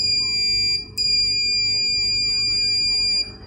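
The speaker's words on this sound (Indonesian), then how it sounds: "Metode buzzer seperti biasa." A multimeter's continuity-test buzzer sounds during a repair of an Acer Aspire One 725 laptop: a steady, high electronic tone held for about three seconds with one brief break near the start, loud and close.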